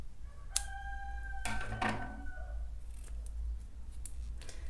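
Scissors snip through crochet yarn in a few quick, close cuts, with faint sharp clicks before and after against a low steady room hum.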